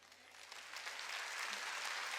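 A church congregation at a Wednesday worship service claps together, a steady broadband wash of applause that grows slightly louder, with no voices over it.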